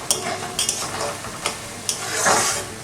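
Ginger, garlic and onion fry in a pan, giving a close, steady sizzle broken by sharp metallic scrapes and clicks of a spatula stirring several times.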